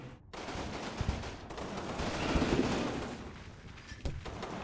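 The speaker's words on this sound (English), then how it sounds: "It's on-map artillery, it's these mortars." Mortar artillery fire in the WWII game Combat Mission Normandy: a series of distant, muffled thuds and cracks through a low rumbling battle ambience, with no voices.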